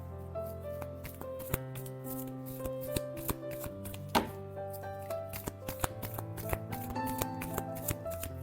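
Tarot cards are shuffled by hand, producing a quick run of crisp, close riffling clicks and taps at low volume over a soft tonal background.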